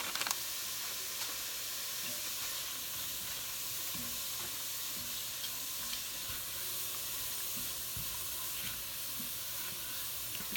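Chopped onion sizzles steadily in a pot as the base for a bacon, shrimp and corn chowder, a close, even frying hiss with soft stirring scrapes and faint clicks running throughout.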